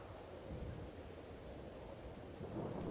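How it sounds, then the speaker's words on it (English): Rain and rolling thunder in the video game Farming Simulator 22, a quiet, continuous low rumble with a soft hiss of rainfall and no voices over it. "Till it stops raining."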